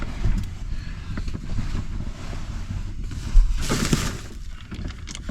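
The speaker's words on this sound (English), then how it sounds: "The wind picked up quite a bit." Strong wind blowing at a campsite late at night, a steady close rumbling roar with gusty surges and buffeting against the microphone, no voices.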